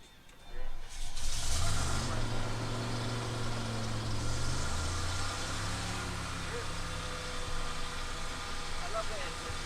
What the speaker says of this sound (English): I love the engine. It's very good.